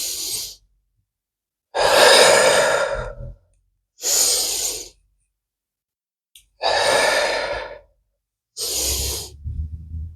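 Long, slow breaths during a yoga session, heard as deep breathy inhales and exhales close to the mic, each lasting about a second or two and separated by silent pauses.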